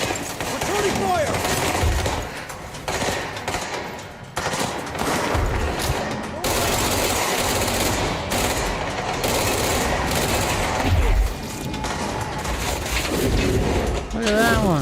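Sustained automatic gunfire in the video game Control, with loud, rapid bursts and mechanical clatter that continue almost without pause, and a voice talking over it at times.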